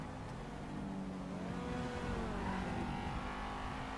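Race cars from a racing video game, a steady engine drone with rising and falling revs, playing low and continuous in the background without speech.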